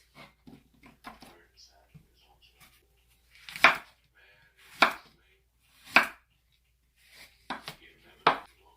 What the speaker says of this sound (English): Then I'm just going to cut these up into slices just like this.